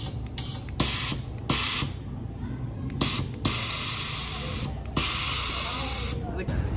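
Several sharp hissing bursts of released air from a car, a loud 'phuss' repeated in spurts of varying length with faint background noise between them.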